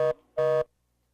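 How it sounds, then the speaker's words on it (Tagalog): Two steady electronic telephone tones follow the end of a call, the first short and the second a little longer after a brief gap. Both are fairly loud and clear, and silence follows. "Ayan, binagsakan ka tuloy yung telepono."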